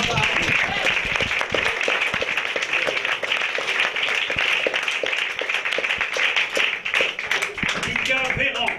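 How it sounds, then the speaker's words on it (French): Audience applause for a comedian on a French TV show, a dense, loud burst of clapping from a crowd that carries on steadily, with voices talking over it. "On peut l'applaudir"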